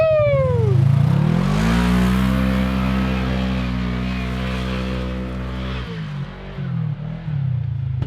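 Kawasaki KRX side-by-side on a ravine trail, its engine revving up sharply and then holding a loud, steady high drone close by before dropping off and stuttering near the end.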